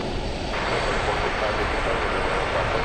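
An airliner takes off from runway 18 left at DFW Airport, its engines a steady broadband roar filling the background while a voice talks over it throughout.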